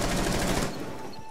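Dense, rapid gunfire from a tactical shooter match rattles continuously at close range, then cuts off sharply near the end.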